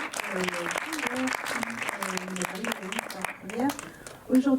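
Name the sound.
audience applause at cinema screening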